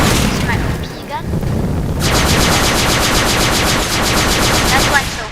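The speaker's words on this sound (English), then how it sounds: "This is my OP gun." Rapid automatic gunfire in the video game Teardown, a loud, close, continuous burst of evenly spaced shots starting partway through, preceded by rumbling and blasts, with a voice speaking.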